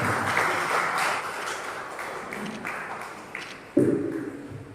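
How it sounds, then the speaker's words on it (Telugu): Scattered applause at a church birthday celebration for a priest, moderately distant and fading slightly, ending with a sharper louder burst near the close. "చప్పట్లు కొడుతూ ఫాదర్ గారిని అభినందిస్తారు"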